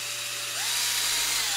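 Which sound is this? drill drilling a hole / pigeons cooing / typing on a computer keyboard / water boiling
drill drilling a hole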